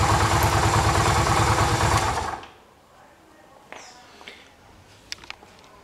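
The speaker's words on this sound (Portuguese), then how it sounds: "Outra coisa que já deu pra ver é que o barulho da moto tá bem uniforme, né? O motor dela, graças a Deus, parece estar bom." A Yamaha XV 250 Virago motorcycle engine runs evenly and loudly up close for a little over two seconds, then cuts out. A quiet background with a few faint clicks remains.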